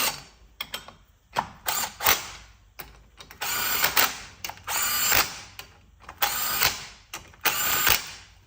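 Power ratchet running wheel spacer nuts down on a car, rapid mechanical whirring bursts in quick repeated spurts with short pauses between, close and loud, no talk.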